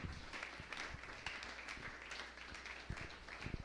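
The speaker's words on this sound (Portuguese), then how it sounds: "Aplaude quem recebe." Church congregation applauding during a sermon, a faint, dense patter of many hands clapping at once in a large room, heard at a distance and steady in level, with no speech over it.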